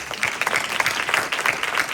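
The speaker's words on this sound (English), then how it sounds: "Give yourself a round of applause" A crowd at a leadership talk claps and applauds steadily for a couple of seconds, a dense, even patter of many hands.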